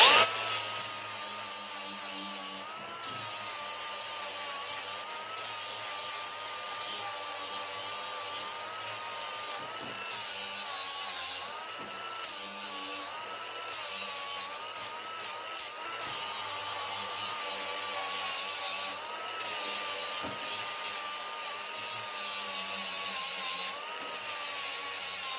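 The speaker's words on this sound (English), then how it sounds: "going to bevel these ends and take a little bit of primer off so we can get a nice, neat and strong weld at each end" Ends of 30 by 30 by 2.5 steel tube, cut in 500 millimetre pieces, are beveled and stripped of primer with a continuous, hissing, rasping grind that briefly dips and resumes, fairly faint overall, with no voices.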